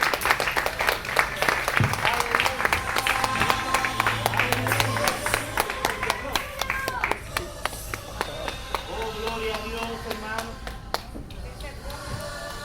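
A church congregation claps and applauds continuously for several seconds, with voices and cheering mixed in, the clapping gradually thinning toward the end.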